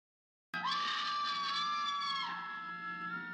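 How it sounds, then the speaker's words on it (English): A loud scream from a horror movie character starts abruptly and holds as one sustained, piercing cry for about three seconds, close and alone. "Can you stop screaming?"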